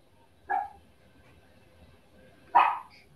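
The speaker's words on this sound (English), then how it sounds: "There's my dog back there." A dog barks twice in the background, about two seconds apart, each bark a short sharp burst in an otherwise quiet room.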